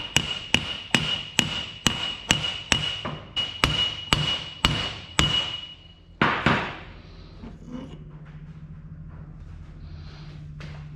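Hammer strikes on a bearing in an Isuzu D-Max CV joint, about a dozen sharp metallic taps in a steady rhythm, close and loud, then a heavier knock and a low hum afterward.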